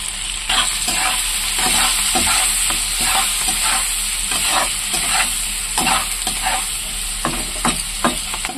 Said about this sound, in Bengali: আগে পেঁয়াজ রসুনটা লাল করে ভাজা হবে